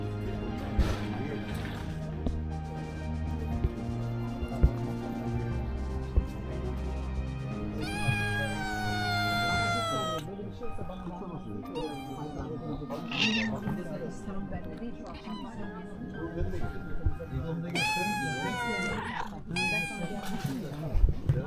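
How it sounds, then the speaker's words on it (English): A mountain cat near the Izmir cable car in Türkiye gives several drawn-out, rising meows in separate bouts over a steady background, with people talking at times. "We've got the kitty."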